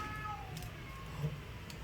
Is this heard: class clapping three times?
no